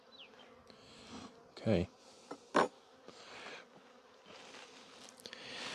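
Honey bees buzzing around an open hive during a beginner queen-grafting workshop, a soft, steady hum close by, with a few brief louder bursts as individual bees pass near, and a person briefly speaking.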